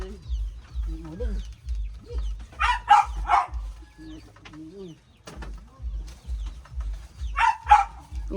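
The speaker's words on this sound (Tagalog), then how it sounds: "Ingay naman ng aso doon sa kabila." Dog barking next door at a house, short repeated barks near and loud amid clucking chickens and other birds, with voices talking around them.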